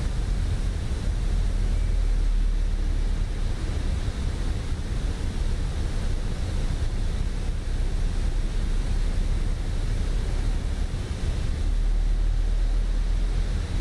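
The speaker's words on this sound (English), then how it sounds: "sound of the the bass or the bass coming from the IAE engines, they were quite beautiful actually." IAE jet engines in Microsoft Flight Simulator, on a flight from Charlotte to New York, produce a constant deep, rushing roar that stays even and unbroken throughout with no pauses.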